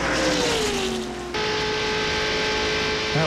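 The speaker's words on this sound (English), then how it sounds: "we've been listening to that four car come by the booth here. We're listening as it comes by here. It sounds like it's running on all eight now" A 1995 NASCAR Winston Cup stock car running on all eight cylinders roars past the broadcast booth at Talladega Superspeedway. Its loud engine whine drops in pitch as it goes by, then settles into a steady high drone of racing engines.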